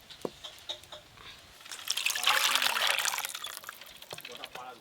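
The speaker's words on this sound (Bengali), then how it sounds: "মাংসটা তো তুলে নিলাম, এবার এই গ্রেভিটা ঢেলে নেব।" Chicken biryani gravy is poured out in a soft liquid splash that swells in the middle and then trickles away, close by and faint, with a voice talking over it.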